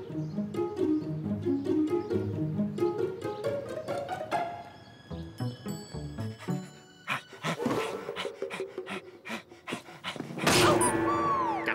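An animated cartoon dog pants in quick rhythmic bursts, then gives high whimpers and yips, with sharp cartoon sound effects near the end; close and lively, with no talk.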